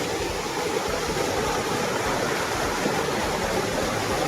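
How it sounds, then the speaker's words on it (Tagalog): A river in a camping area rushes steadily, a constant broadband wash of flowing water with no pauses, close and fairly loud throughout. "Ito po ang ilog."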